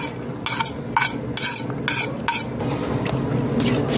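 Chopped onion, garlic and carrots being stirred into beaten eggs in a bowl, with rapid bursts of utensil clinking and scraping against the bowl in a quick uneven rhythm, close and fairly loud.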